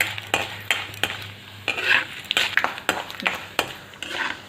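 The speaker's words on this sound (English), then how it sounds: "The mustards will start spluttering, and the cashews, the chana dal, the urad dal, everything starts to be, it will start frying." Mustard seeds, cashews, chana dal and urad dal frying in hot oil for a tempering, with crackling sizzle and quick pops, interrupted by repeated scraping and clinking of a spoon stirring the pan, close and fairly quiet.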